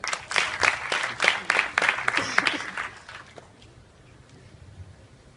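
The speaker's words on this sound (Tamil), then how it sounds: "ஹரிணிக்கு கைத்தட்டல்." Audience applause at a youth Tamil poetry conference in Singapore, a burst of clapping that carries for about three seconds and then fades out to quiet.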